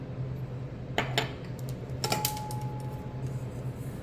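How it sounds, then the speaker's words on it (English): Dry ground spices for a pumpkin or gingerbread blend are stirred in a bowl, giving a few brief clinks and scrapes against a steady low hum, with a faint ringing tone after the second strike. "Now we're going to give this all a stir."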